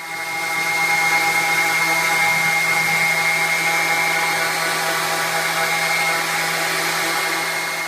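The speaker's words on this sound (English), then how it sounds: "so here's me sanding" A steady electric power sander drones continuously at close range on wood for a platform bed, its whine holding even from start to finish with no voices.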